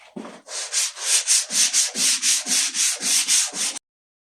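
A car headlight sanded by hand with 320 grit sandpaper, about a dozen rhythmic rasping strokes, close and loud, then silence.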